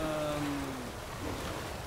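Steady rain falls in The Witcher 3: Wild Hunt, a constant hissing patter with faint tonal sounds drifting underneath.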